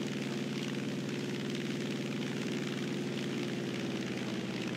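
Aircraft engine droning steadily in the War Thunder video game, a loud, dense, unbroken rumbling roar with a throbbing low pulse and broad noisy wash on top, constant for several seconds.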